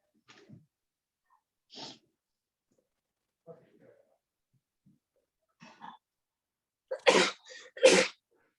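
A sneeze bursts out loudly near the end, a sharp double blast that follows several faint sniffs and quiet breathy sounds, with a brief voice heard close by.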